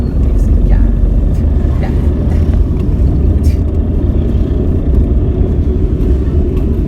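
Low, steady engine rumble of a Tata Nano car moving in third gear, with road and cabin noise throughout, and someone speaking over it.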